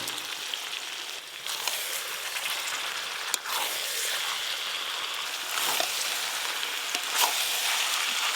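Fried potatoes sizzle as they go into a pan of braised goat mutton curry cooked with ground spice paste: a steady, close crackling hiss with scattered pops and a few soft stirring scrapes, no voices.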